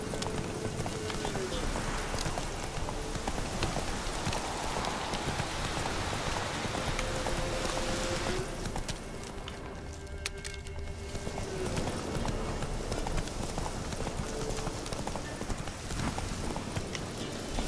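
Horse hooves gallop in The Witcher video game, a fast, steady clip-clop rhythm under rain-like hiss, with a short quieter patch midway and a voice talking over it.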